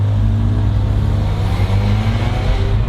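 An Audi R8 V8 engine runs quietly in a steady, low, near rumble with a faint whirring tone above it, continuous throughout with no talk.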